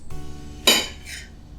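A knife slices through salad ingredients on a cutting surface in a home kitchen, giving one sharp clinking cut with a brief lighter follow-up, close and clear with no talking.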